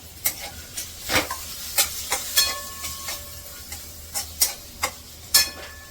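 Sprouted chickpeas, boiled soft in a pressure cooker, are stirred and sautéed in a hot pan: a spatula scrapes in irregular strokes over a light sizzle, close and fairly loud, with no voices.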